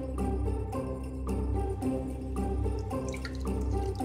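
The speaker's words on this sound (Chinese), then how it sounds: "肺部也要在灌水清洗" Running water rinsing sheep lungs and offal for a Wuzhong-style mutton offal dish, with steady splashing and dripping throughout, close and moderately loud, no voices.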